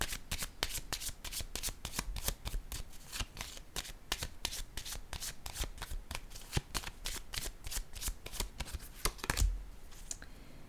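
A deck of cards is shuffled continuously during a card reading, a quiet, rapid series of riffling flicks repeating steadily for about ten seconds, with no talking.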